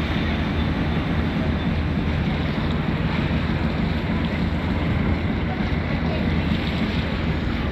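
Boat engine idling near Hong Kong's harbour, a constant low rumbling and bubbling drone mixed with wind and water noise, loud and unbroken throughout.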